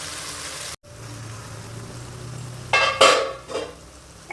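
Chicken and potato curry sizzles in a pan over a high gas flame, with steady frying hiss and a few scraping stirs and utensil clinks near the end, close by with no talk.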